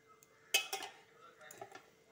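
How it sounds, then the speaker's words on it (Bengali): A lid comes off a cooking pot of simmering taro and potato, giving a couple of sharp metallic clanks followed by softer clinks, close and fairly quiet. "ঢাকনাটা খুলে দেখব"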